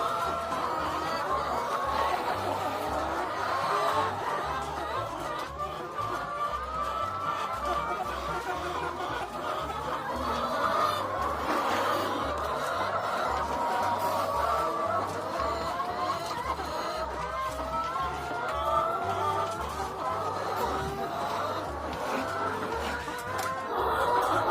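Laying hens in a rooftop coop cluck and chatter continuously, a dense flock sound over a low steady hum, with faint voices now and then.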